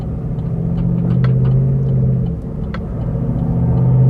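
A 2021 Chevy Silverado Custom Trail Boss pickup, lifted and not stock, rumbles with a steady low engine drone that dips briefly midway, then builds again as the truck moves off.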